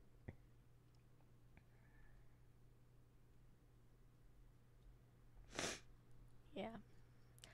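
A single sharp, close sneeze bursts out in a quiet room, followed about a second later by a shorter snort or sniff.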